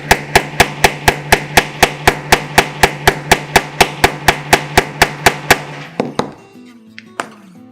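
A hammer strikes a Craftool setter to set a leather grommet, about twenty sharp, evenly spaced blows in quick succession, loud and close, ending with a few lighter clinks.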